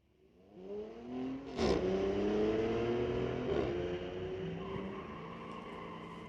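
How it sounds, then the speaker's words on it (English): A 2024 Ford F-150 and a 2023 Porsche launch in a drag race at Mission Raceway, engines rising sharply in pitch as they accelerate away, heard from a distance as a sustained, moderate roar that gradually fades. "Nick Bond putting down an 874 at 78 miles an hour."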